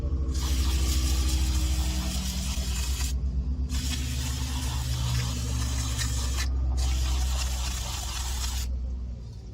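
Brake cleaner hisses from an aerosol can onto car brakes in three long, loud bursts separated by short pauses, over a low background rumble.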